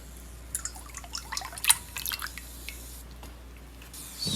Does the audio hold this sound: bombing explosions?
no